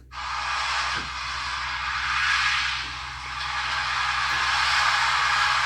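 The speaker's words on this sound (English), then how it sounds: "Waves." Steady broadband rushing wash of ocean waves from a baby monitor's sound setting, swelling and easing gently like surf rolling in, continuous and fairly loud with no voices.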